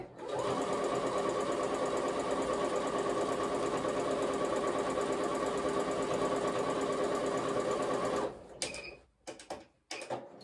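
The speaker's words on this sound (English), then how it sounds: "Oh, we're on slow because of the edge stitching." Sewing machine edge stitching shorts at slow speed, a steady continuous mechanical whir and rapid stitching hum for about eight seconds before stopping abruptly, followed by a few brief handling clicks.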